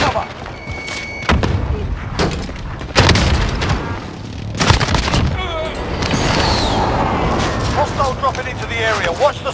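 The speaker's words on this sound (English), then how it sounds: "Enemy precision airstrike. Take cover." Enemy precision airstrike explosions in a first-person shooter video game, heavy booms and thuds repeating every second or two, close and loud, with battle chatter and voices over them.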